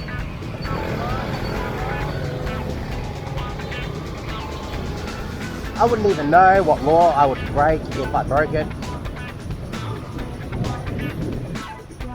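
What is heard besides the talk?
Vietnamese street traffic heard from a motorbike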